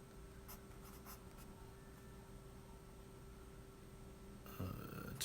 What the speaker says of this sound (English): Make sure you write your name and the date.